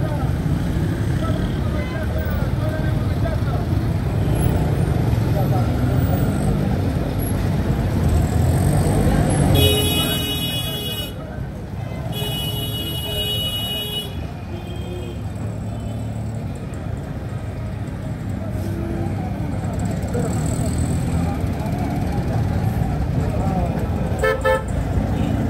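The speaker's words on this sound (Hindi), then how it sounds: "यहाँ ट्रैफिक का भी बड़ा रश है।" Busy street traffic in a Peshawar, Pakistan bazaar, a continuous loud rumble of engines with sharp car horns honking in bursts, while someone talks over the din.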